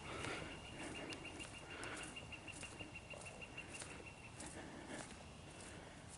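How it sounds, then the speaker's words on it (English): Faint birdsong on a spring trail at Green Lakes State Park, with repeated thin chirps and calls scattered over soft background noise and possible footsteps, distant and quiet. "The birds are coming out. Sounds of spring."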